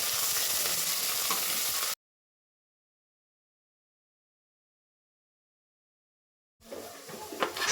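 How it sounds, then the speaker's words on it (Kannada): Onion and green chilli sizzle in a pan for biryani, a steady close frying hiss that cuts out completely and then returns with stirring noises. "ಆನಿಯನ್ ಮತ್ತು ಗ್ರೀನ್ ಚಿಲ್ಲಿನ ಹಾಕ್ಕೊಂಡು ಕ್ಲೀನಾಗಿ ಗೋಲ್ಡನ್ ಕಲರ್ ಬರೋ ತನಕ ರೋಸ್ಟ್ ಮಾಡ್ತೀನಿ."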